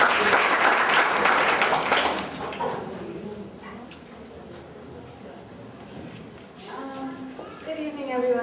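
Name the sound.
applause at a 100th birthday party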